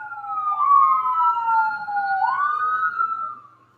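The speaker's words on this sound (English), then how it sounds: "other than the ambulances are deciding to go by" An ambulance siren wails as it passes by, its rising and falling tone loud and clear, fading slightly at the end.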